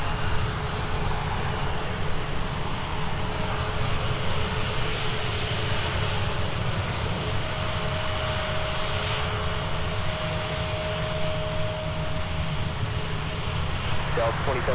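A Delta airliner takes off from runway 30 right at Minneapolis–Saint Paul airport, a steady, loud jet engine roar that holds throughout at a constant level, with radio chatter and a voice speaking over it.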